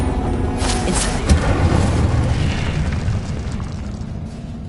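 Fiery Incendio spell cast in Hogwarts Legacy, a sustained roaring whoosh with a booming burst near the start, loud and dense throughout with no talk.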